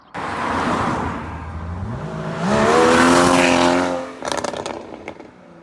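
Porsche 718 Cayman fitted with a non-factory aftermarket exhaust drives past, a loud rising engine note peaking as it passes close by, then fading, followed by a few sharp pops or crackles.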